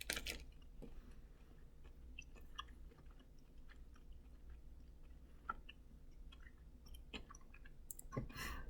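Crunchy, close-up chewing of a Crispy M&M's milk chocolate bar, with irregular crisp bites and clicks at a quiet level and no talking.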